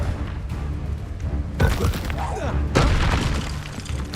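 A Confringo spell blast in Hogwarts Legacy: two heavy booming impacts with debris crackle, the second one louder, set against ongoing game noise and a voice.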